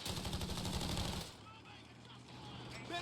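Machine gun fire in the strategy game Company of Heroes 3, with a rapid rattling burst for about a second, then quieter background battle noise and soldier voice chatter.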